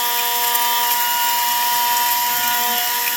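A Foredom flex-shaft rotary tool polishing a part of a Stihl 193T chainsaw, a loud, steady high-pitched whine running at constant speed, close and unbroken, with no talk.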